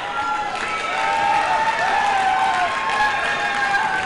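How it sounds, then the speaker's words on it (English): A steady crowd roar with applause and clapping from basketball fans filling an indoor arena, continuous and moderately loud, with no clear voice on top. "Fans give Lamont a round of applause for coming back."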